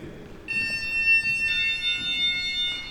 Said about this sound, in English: So that's the alarm system.